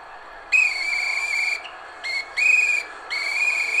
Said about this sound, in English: Gotta blow that whistle.